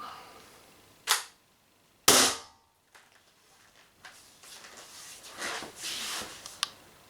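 An Umarex HDR68 air revolver fitted with a Quattrovolante carbine kit fires a slug, giving a sharp crack near the start, followed by a quieter click and faint handling noise.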